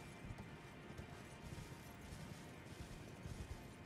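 Quiet rhythmic hoofbeats of a galloping horse in the video game Elden Ring, steady and soft, with faint clattering mixed in.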